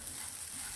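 Spices and curry leaves fry in hot oil in a pan, a close, continuous sizzle with fine crackling and no talk over it.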